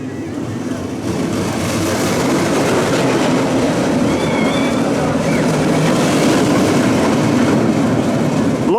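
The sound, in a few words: roller coaster train climbing booster wheel lift hill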